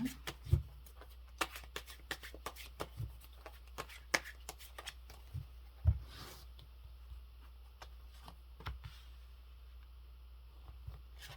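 Tarot cards being shuffled close up, with a run of soft riffling flicks and sharper card snaps over a low steady hum.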